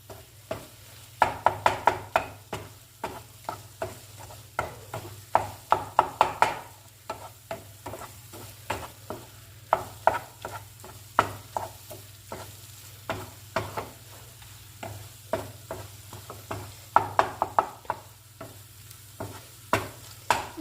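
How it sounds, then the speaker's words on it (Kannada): Egg is stirred into butter and garlic in a hot pan: a spatula scrapes and taps in quick, irregular strokes over a low, steady sizzle, close up and without talking. "ಇವಾಗ ನಾನು ಮಾಡ್ಕೊಂಡಿದ್ನಲ್ಲ ಫಸ್ಟು ಎಗ್, ಅದನ್ನು ಹಾಕ್ತಾಯಿದ್ದೀನಿ. ಮಿಕ್ಸ್ ಮಾಡಿ"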